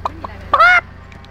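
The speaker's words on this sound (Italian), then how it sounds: "Ehi, c'è una gallina." A chicken that has wandered near cars gives a few short clucks, then one louder, drawn-out squawk, with quiet background and no talking.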